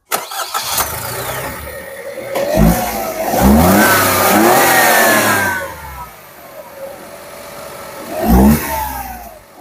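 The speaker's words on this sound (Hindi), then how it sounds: "तो कुछ ऐसा साउंड प्रोड्यूस करता है डिजायर का नया इंजन।" A Maruti Suzuki Dzire with a 1.2-litre three-cylinder petrol engine cranks and starts, then revs up several times, climbing to a sustained high rev before settling to idle and blipping once more, loud and close.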